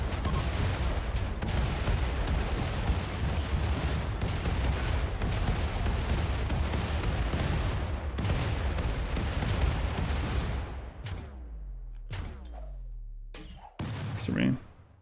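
Rocket launcher fire and explosions in RimWorld, a dense barrage of booms and rapid blasts filling the first ten seconds, then a few separate echoing detonations as the onslaught thins out.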